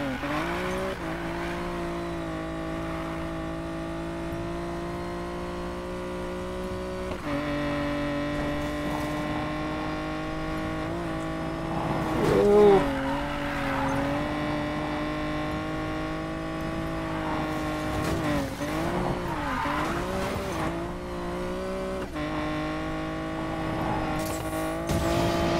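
Race cars in Need for Speed Payback engine howl steadily at high revs, with gear shifts stepping the pitch and bursts of tire squeal and skidding, continuous for the whole stretch with no talk.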